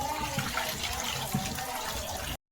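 Prawns being washed by hand in water make a close splashing and sloshing, a continuous swirl of liquid with a few small knocks, cutting off abruptly at the end.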